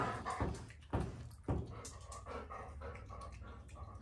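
A pet dog pants in rapid breathy bursts close by, with a few louder huffs and faint whimpers mixed into the quiet room sound.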